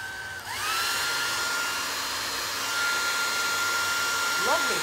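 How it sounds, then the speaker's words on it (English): A blow dryer drying paint on cardboard switches on with a rising whine, then holds a loud, steady high-pitched whirr and airy rush, with a slight pitch wobble near the end. "We're gonna hit this with a blow dryer."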